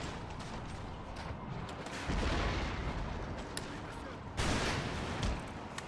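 Musket volleys and artillery fire in the Empire: Total War strategy game, dull booms and crackling shots rolling on under a voice speaking French.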